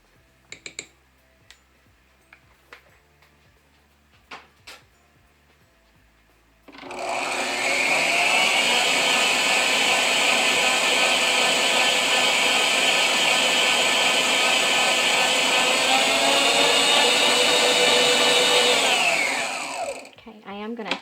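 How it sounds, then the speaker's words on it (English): A stand mixer whips black African soap mixed with black Brazilian clay, starting abruptly after a few scattered clicks and a faint low hum, then running as a loud, steady whir for about thirteen seconds before stopping. "I love this mixer"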